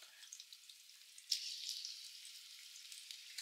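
Liège meatballs frying in hot oil with shallots give off a thin, airy sizzle that swells slightly partway through, with faint crackles throughout and no voices.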